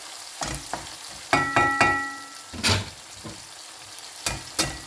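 Sardines with tomato sautéing in a pan, with garlic and onion, a soft steady sizzle broken by several sharp clicks and scrapes of a utensil stirring, close by, with no voices.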